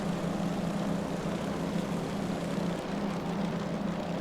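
Steady droning propeller engine of a Grumman F3F in a flight simulator game, a constant loud hum with no talk over it.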